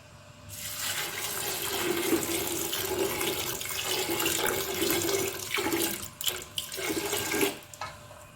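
Steady stream of about a litre of water pouring and splashing into a pressure cooker for several seconds, then a few short bursts before stopping.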